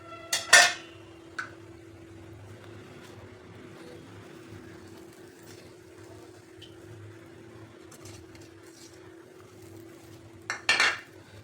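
A spoon knocks against a pan while raw mango dal is mixed: a couple of sharp clinks near the start, a quiet stretch of faint scraping, then another cluster of metallic taps at the end.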